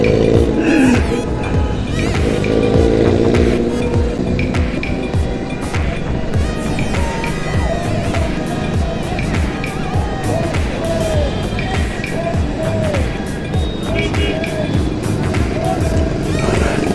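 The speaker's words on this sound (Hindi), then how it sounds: "देखो गाड़ी का यार एग्जॉस्ट।" A car's loud exhaust roars during a rally, a dense continuous engine and road rumble close by with revving swells, mixed with other vehicles and occasional voices.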